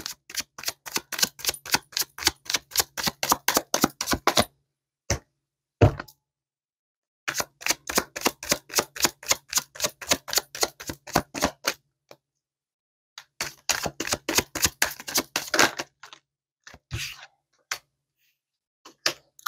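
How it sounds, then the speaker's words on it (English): Tarot cards shuffled and pulled by hand, a dense run of crisp riffling clicks in three long bursts separated by short pauses and a few isolated card snaps, close and fairly loud with no talking. "Let me pull some more cards"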